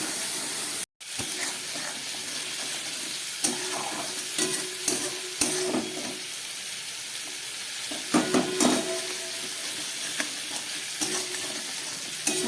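Cumin and dry red chilli powder masala frying for a tangra fish curry, heard as a steady sizzle broken by repeated scraping stirs and spoon knocks against the pan, close and without talk.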